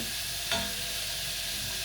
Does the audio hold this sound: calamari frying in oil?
yes